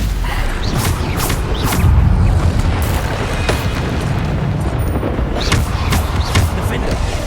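Repeated Bombarda spell blasts in Hogwarts Legacy boom in quick succession amid dense, loud magical combat noise, each one a sharp burst over a continuous rumble.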